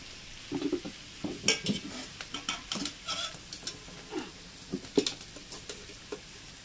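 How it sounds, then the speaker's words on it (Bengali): Rice being stirred and mixed into a pan of fried rice ingredients, with a string of close scraping and clinking spatula strokes over a soft sizzle, no speech. "সমস্ত মিশানো হয়ে গেছে, এবার শুধু রাইসটা মেশানোর পালা"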